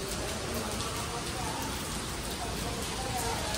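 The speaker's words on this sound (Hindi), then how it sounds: "बारिश बड़ी पै रही" Heavy rain pouring steadily on a village setting, a dense continuous hiss at constant level with no breaks.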